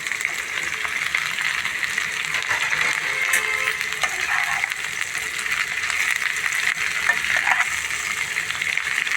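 Thinly sliced capsicum frying in a pan gives a steady, even sizzle throughout, a continuous hissing crackle at moderate level with no talk.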